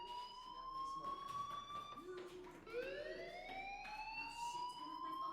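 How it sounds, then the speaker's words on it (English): A school fire alarm in the video game Life Is Strange wails in rising and falling electronic siren tones, moderately loud and continuous, with a brief dip and restart partway through. "Hey, do you hear that fire alarm?"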